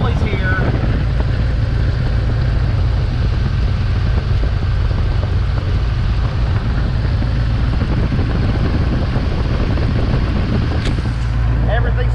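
Car engine running under the hood with the cooling fan running constantly and belt pulleys turning, a loud steady whirring drone throughout.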